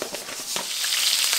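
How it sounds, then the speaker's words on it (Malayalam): Mustard seeds crackling and popping in hot vegetable oil in a pan; a quick scatter of sharp pops over a rising, steady sizzle, close and fairly quiet. "നന്നായിട്ട് ചൂടായി വരുമ്പോഴത്തേക്കും കടുക് ഇട്ട് പൊട്ടിക്കുക"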